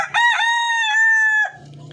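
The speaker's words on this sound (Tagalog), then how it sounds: "laki nitong barako na to" A Filipino native rooster on a backyard farm lets out one loud, close crow lasting over a second, followed by faint low background noise.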